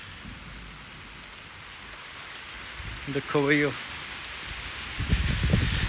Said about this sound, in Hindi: लो भाई और ही बारिश सवेर की आज।